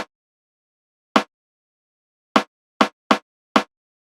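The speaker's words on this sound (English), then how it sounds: "I have this snare that I use in the chorus" A snare drum sample from a song's chorus fires six short, sharp hits with uneven gaps between them, each dry and punchy against silence.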